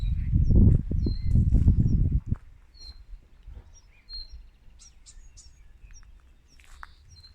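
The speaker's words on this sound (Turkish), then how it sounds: "Evet kuş sesleri ormanda doğal ortamında." Loud rustling and flapping noises up close for two seconds, then quiet forest ambience in Akdağ Nature Park, Sandıklı, Turkey, with scattered short bird chirps and calls at a distance.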